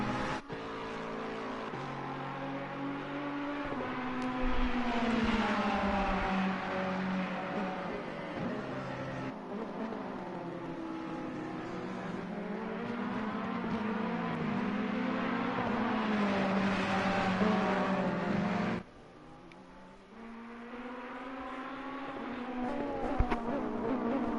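Ferrari race car engines in a racing video game, a droning engine note that rises and falls with gear changes, sustained and fairly close, with a sudden shift near the end and no talk.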